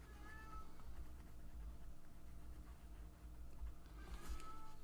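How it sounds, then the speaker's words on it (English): A cat meows loudly and insistently from behind a closed door, its calls slightly muffled, with a few drawn-out cries at the start and again near the end over a low steady room hum. "And you can probably hear Corbin bellowing at me from the other side of the door because I've locked him out."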